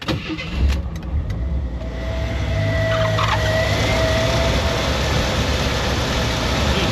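An AMC 4.2L engine running at idle just after starting, a steady loud rumble that settles into an even drone, with a few clicks early on.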